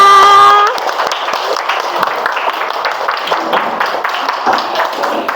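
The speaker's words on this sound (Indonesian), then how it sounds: "Tepuk tangan untuk semuanya." An audience at an Indonesian teacher-training session claps hands together after an ice-breaking activity, a dense, steady patter of many hands that follows a brief opening tone and carries on loud for several seconds.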